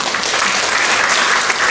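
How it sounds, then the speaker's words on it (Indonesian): A large crowd at a provincial government working-meeting event applauds, a dense, even clapping that holds steady and loud throughout, with no voices standing out. "Tepuk tangan buat semua keluarga besar"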